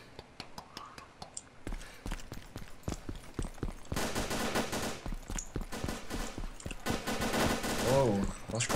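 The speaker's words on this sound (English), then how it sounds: "This dude is literally sniping with his AK." Rapid bursts of AK rifle fire in DayZ, the Arma 2 mod, crack close and loud in quick volleys, then give way to denser sustained automatic fire, with faint voices underneath.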